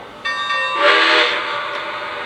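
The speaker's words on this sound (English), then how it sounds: "You'll get 2 bells and a whistle to signify you're in sequence mode." A Lionel Legacy Milwaukee Road S-3 model train's sound system gives a sustained ringing bell-like tone, then a loud breathy whistle blast swells over it and fades, with nothing else heard.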